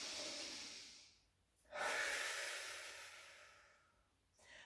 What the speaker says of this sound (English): just take a nice deep breath